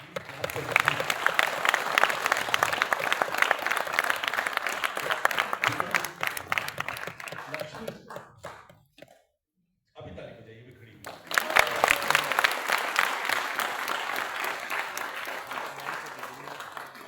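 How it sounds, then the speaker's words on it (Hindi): A crowd applauds for Lakshmi at a TLP 2024 event in Panchgani, dense steady clapping that thins out and briefly drops away, with a short spoken word, then swells back to full, lively applause. "आप सब मिलकर ना थोड़ा लक्ष्मी के लिए ताली बजाइएगा वहाँ पे"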